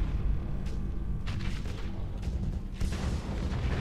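Ship weapons in the space combat game Starsector firing against a large vessel, heavy booming blasts and rumbling impacts overlapping in loud, rolling bursts throughout.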